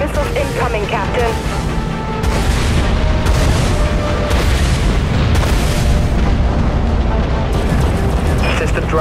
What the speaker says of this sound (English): Enemy missiles incoming, Captain.